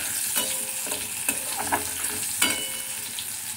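Green chillies and garlic fry lightly in a pan with a continuous close sizzle, and a utensil stirs and scrapes against the pan in several distinct strokes.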